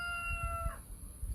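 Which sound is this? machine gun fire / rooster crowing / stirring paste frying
rooster crowing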